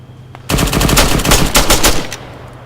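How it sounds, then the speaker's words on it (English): Rapid automatic gunfire in the ArmA 3 Wasteland game at night, a loud, sustained burst of close shots that starts abruptly after a faint earlier shot and runs for about a second and a half. "Just totally shooting at me from over there where that truck is."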